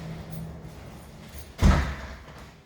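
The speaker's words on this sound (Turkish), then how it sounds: "Ana kapı açıldı. Kapı açıldı ya." A Hyundai Elantra car door heard as a single short thump as it opens or latches, following a faint low rumble, fairly close and with no talk.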